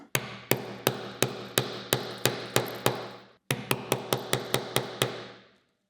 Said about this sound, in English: This goes through the hole onto the anvil, this part on top, and hammer it secure.